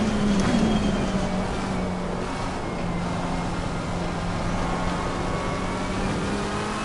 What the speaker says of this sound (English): the car does sound really good